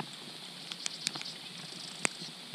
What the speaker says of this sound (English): It's after 2 o'clock, it's still raining.